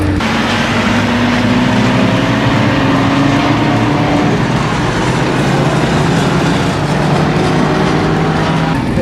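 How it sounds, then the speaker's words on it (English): A car engine in a night-time racing video game bounces hard off the rev limiter, a loud, sustained high-pitched engine drone with stuttering, flat-topped revs throughout. "I hit the rev limiter major time then"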